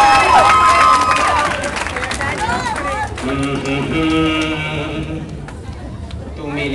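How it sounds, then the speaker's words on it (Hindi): A live crowd at a show in Birmingham cheers and applauds for the groom, a loud mix of shouting voices and clapping with lively talk and babble throughout. "दूल्हा जी तालियां दूल्हे के लिए"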